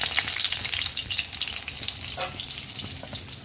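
Potatoes frying in hot oil in a pan make a dense, steady close sizzle with fine crackling throughout, and nobody is talking.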